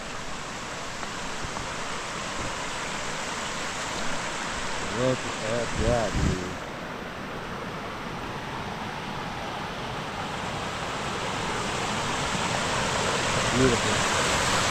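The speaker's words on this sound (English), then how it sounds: "It's a beautiful waterfall." Dunning Springs waterfall and the ice-cold stream below it in Decorah, Iowa, give a constant broadband rushing roar close by, with someone briefly speaking over it.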